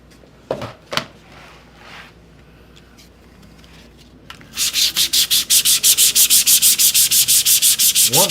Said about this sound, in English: still wouldn't hurt to hit it with sandpaper